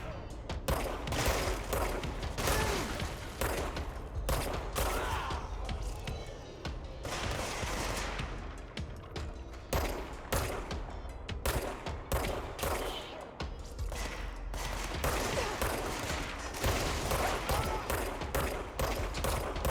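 Continuous gunfire in the game Control, with bursts of shots and booming impacts repeating steadily throughout, moderately quiet overall and dense with overlapping blasts.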